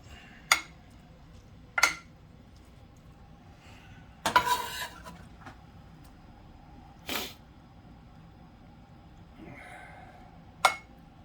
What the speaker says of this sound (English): put in the next layer of meat on here